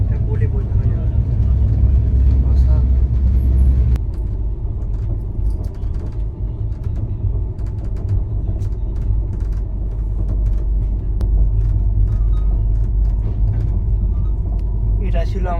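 Steady, loud rumble of the 12259 Sealdah–Bikaner Duronto Express rolling through Rajasthan on a late afternoon, heard from inside the train. Continuous mechanical drone with creaks and rattles, with faint murmur of voices underneath.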